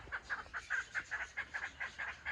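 A male partridge kept at home calls in a steady, rapid series of repeated clucking notes, evenly spaced and fairly close, continuing without pause.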